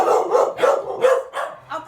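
Several dogs barking in quick succession at a house, about five loud, close barks spaced evenly with short gaps and no talk between them.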